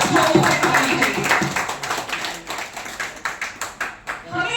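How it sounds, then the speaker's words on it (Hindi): Loud clapping at a Kshatriya Mahasabha workers' felicitation meeting in Delhi, welcoming a first-time attendee and his wife; rhythmic, forceful claps in quick bursts, close and prominent, with a voice over the start. "इसके लिए बहुत जोर से ताली चाहिए"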